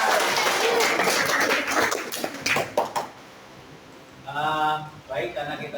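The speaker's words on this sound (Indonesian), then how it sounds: "Tepuk tangan semuanya." High school students clapping their hands together in a classroom, a brisk burst of claps for about three seconds that then stops, followed by a short voiced sound.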